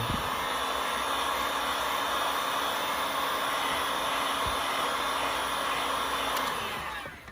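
A heat gun blows steadily and loudly up close for several seconds while warming the plastic seal on an iPhone 13 Pro box, with a brief tick near the end as it winds down.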